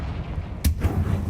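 Confringo fire spell cast in Hogwarts Legacy, a single sharp blast that bursts out mid-clip and trails into a rumbling low tail over steady game ambience, with no talking.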